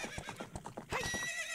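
A stolen horse whinnies loudly in Zelda Ocarina of Time 3D, its neigh rising over a rapid run of hoofbeat clip-clops that continue throughout the short game clip.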